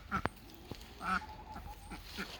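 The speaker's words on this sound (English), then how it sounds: "Hi, Ducky Ducky!" A duck in a backyard vegetable garden gives a few short, nasal quacks close by, with quiet pauses between calls and no talking.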